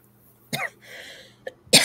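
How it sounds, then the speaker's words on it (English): A person coughs in a quiet room: a sharp cough, a brief catch, then another harsh cough at the end, each close and abrupt against near silence. "I keep getting a cough."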